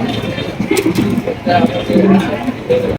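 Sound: fancy pigeons cooing

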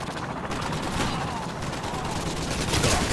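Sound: TAR-21 rifle gunfire in video game Modern Warfare 2

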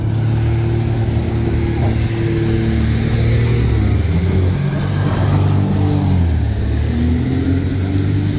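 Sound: fishing boat engine revving as the boat race starts

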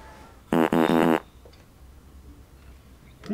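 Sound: fart sound effect in comedy video

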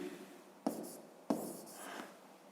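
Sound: writing numbers by hand

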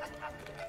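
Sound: dog barking in the video game Creaks

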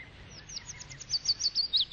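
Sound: birds singing

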